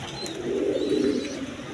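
Lahori pigeons coo softly in a low, rolling murmur, a close, steady warble held for a second or so, with faint higher chirps above and no talking.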